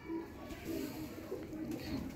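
Pigeons coo in low, soft, repeated bursts, a steady murmur from a flock of slate-grey and other pigeon breeds at a loft in Lahore, with no talk over it.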